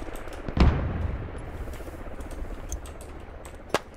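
In a squad shooter game, a grenade goes off with a heavy boom near the start, followed by a rumbling tail of scattered gunfire and a sharp distant shot near the end.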